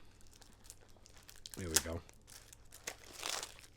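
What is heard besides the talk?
scissors cutting packaging of a cassette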